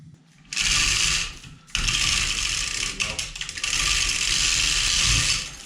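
Hand-cranked hoist raising a whitetail deer carcass in a shop, a close, loud whirring ratchet that runs in long bursts with a short pause and uneven clicking in between.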